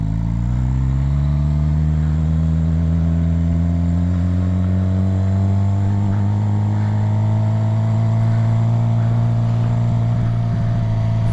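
A Suzuki GSX-R 750 motorcycle fitted with a turbo-style exhaust whistle runs steadily nearby, its loud engine drone rising gradually in pitch as it revs up, with a faint airy whistle over the exhaust note and no talk.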